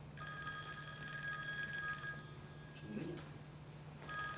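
A telephone rings during a Korean stage play, its bell tone steady and sustained across the scene under a faint murmured line of dialogue.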